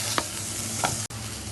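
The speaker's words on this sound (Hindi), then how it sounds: "शिमला मिर्च डाल के भी हम इसको भी इस तरीके से इसमें सौटे कर लेते हैं।" Capsicum sautés in a hot pan with a constant sizzle, broken by two quick scraping stirs and a brief dropout near the end.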